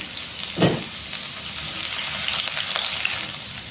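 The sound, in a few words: garlic frying in pan for mutton heart curry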